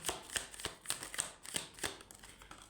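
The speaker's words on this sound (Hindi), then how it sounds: "यहाँ से हम निकालेंगे कुछ कार्ड्स" Tarot cards shuffled and drawn from a deck, a quick series of soft riffling slaps and flicks at close range, quiet and alone without talk.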